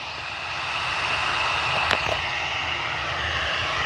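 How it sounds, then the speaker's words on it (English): An EasyJet Airbus A319-100 airliner departing for Belfast International at Liverpool Airport, a steady broad jet engine roar heard from a distance, holding level throughout with no talk. "The A319-100 off to Belfast International."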